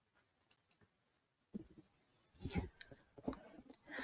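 Faint, sharp computer mouse clicks, two light taps early on, then quiet speech with a few more clicks mixed in.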